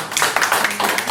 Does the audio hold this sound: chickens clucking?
no